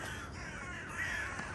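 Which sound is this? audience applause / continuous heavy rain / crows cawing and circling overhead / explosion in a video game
crows cawing and circling overhead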